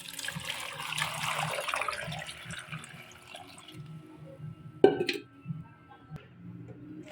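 Water poured into a pot of ginataan with cassava, kamote and saba banana, a splashing pour that fades after a few seconds, followed by a sharp clank and a few scattered knocks.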